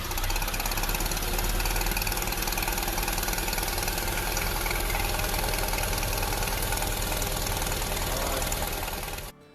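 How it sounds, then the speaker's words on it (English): A customer's truck engine runs rough and steady like a tractor, with a loud, continuous knocking clatter at close range that cuts off abruptly at the end. "their truck had started sounding like a tractor recently"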